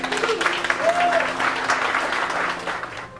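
An audience claps at a county commissioners meeting, with a brief burst of applause that is a little muffled and stays fairly steady, with faint voices and a tone mixed in.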